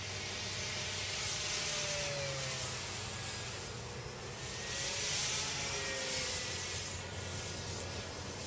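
A radio-controlled Airfield F6F model airplane flies overhead, its electric motor giving a steady whining drone that swells and fades as it passes at moderate distance, with no voices.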